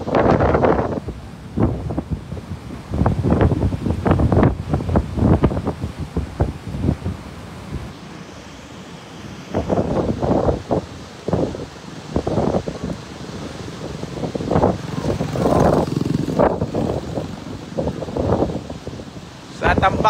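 Strong typhoon wind batters Tambak, Aklan in heavy, gusting roars that buffet the microphone in waves, swelling and easing over and over. A voice speaks beneath the gusts.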